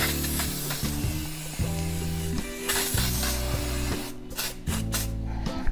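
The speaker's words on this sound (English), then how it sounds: "Just spray the varnish all over the surface." A spray can of varnish hisses in steady bursts close up over a humming, droning background, with a few sharper hisses near the end.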